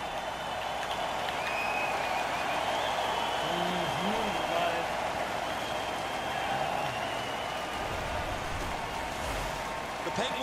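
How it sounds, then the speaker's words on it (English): A virtual arena crowd roars after a hockey fight in the NHL 15 video game, a dense steady wash of cheering and noise sustained throughout, with a commentator-like voice and faint tonal sounds running underneath. "The crowd is so pumped right now."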